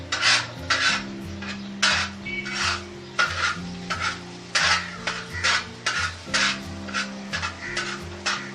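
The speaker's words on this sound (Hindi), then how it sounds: "इसको हम अच्छी तरह इसके अंदर मिक्स कर देंगे।" A spatula stirs and scrapes a tomato and egg mixture around a pan in a steady run of rasping strokes with faint sizzling underneath. The scraping is close and moderately loud, and no one talks.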